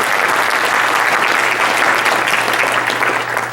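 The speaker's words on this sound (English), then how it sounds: "Let's give a round of applause once more to our annual sponsors and our program partners" Audience applause for annual sponsors and program partners at a 51st anniversary gala. Dense, loud, steady clapping fills the room without a break and eases off slightly at the very end.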